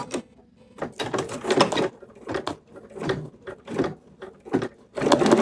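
A Bernina embroidery machine stitches a design in a run of uneven, clattering bursts separated by short pauses, close and moderately loud, with no talking.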